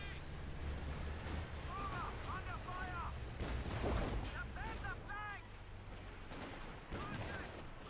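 Machine gun fire in the World War II strategy game Company of Heroes 2, German machine guns rattling in bursts amid distant artillery-like booms and battle ambience, with a commentator talking over the action throughout.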